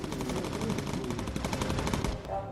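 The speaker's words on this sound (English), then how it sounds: "it does present our tail guns, those 2 quad guns, to the enemy" Rapid, continuous machine-gun bursts from a bomber's twin quad tail guns in the World War II game Bomber Crew, a dense, steady rattle sustained with only a brief easing near the end.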